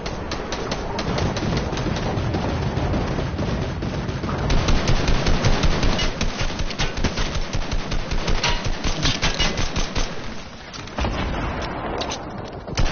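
Rapid automatic gunfire rattles through a Counter-Strike: Global Offensive match, dense bursts of shots with booming impacts, loud and sustained with brief pauses.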